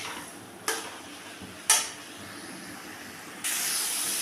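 Boiled hog plums with salt and turmeric sauté in a pan, a low steady hiss broken by a few sharp stirring scrapes and bursts of sizzle, ending in a louder rush of steam.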